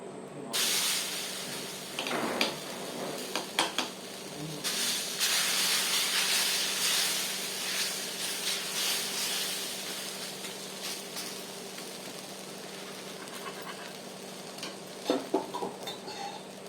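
Wheat adai, a crisp Punjab-wheat batter pancake, frying in oil on a pan: a steady close sizzle and hiss runs throughout, with a few sharp spatula taps and scrapes near the start and end.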